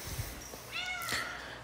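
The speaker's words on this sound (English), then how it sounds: "Hey, cat. Meow." A cat gives a short, faint meow, a single rising-falling call against quiet background noise.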